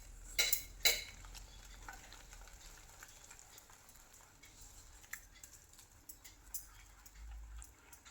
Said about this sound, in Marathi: असं मिक्स करून घेऊ